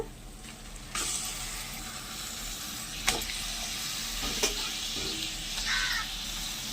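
Washed country chicken tipped into a pan of softened onions, bringing a loud sizzle that rises suddenly around one second and keeps hissing, with a few clattering knocks of utensils along the way.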